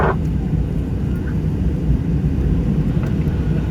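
Airplane cabin noise during descent for landing into Jeju International Airport: a loud, steady broadband engine and air rumble fills the cabin without a break, with no talk.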